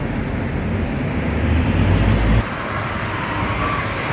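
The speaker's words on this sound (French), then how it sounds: "Il y a beaucoup de bruit avec la circulation." Loud, steady road traffic roars nearby as a continuous broad wash, with a heavier vehicle rumble swelling and then cutting off partway through.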